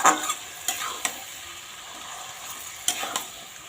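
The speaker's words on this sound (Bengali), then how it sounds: "মেখে রাখা মাংসটা দিয়ে দিলাম এখন এটা নেড়ে একটু নাড়াচাড়া করে ঢেকে দেবো" Marinated meat is stirred in a cooking pot, with a steady sizzle under a few sharp scraping strokes of a spoon against the pot, close and short.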